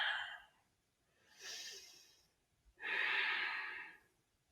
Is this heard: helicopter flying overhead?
no